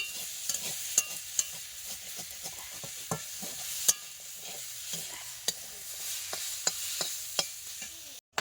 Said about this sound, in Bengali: এই যে এখন নাড়াচাড়া করছি।